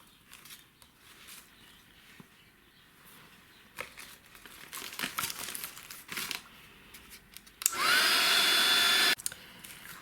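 A hair dryer drying a mixed media artwork page, a loud steady blast about a second and a half long near the end, preceded by quieter crinkling and handling noises.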